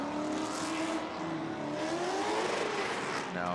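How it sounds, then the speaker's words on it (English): Formula Drift JAC Motorsports FRS drift car warming its tires during knockout qualifying, engine revving and wavering continuously with a faint tire squeal over steady crowd and track noise, fairly distant. "So Licklider warming up his tires, the JAC Motorsports FRS."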